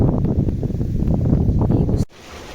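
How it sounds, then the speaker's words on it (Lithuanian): Strong wind at Dvariūkai pond buffets the microphone with a loud, rumbling roar, then abruptly drops to a quieter hush near the end. "tokie debesiukai, vėjas kyla"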